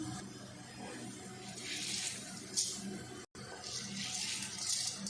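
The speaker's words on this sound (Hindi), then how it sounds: "चावल डालना शुरू कर देते हैं" Rice poured into a pot of boiling water for zarda, a steady hissing rush of grains and water that swells and eases, with a brief break midway.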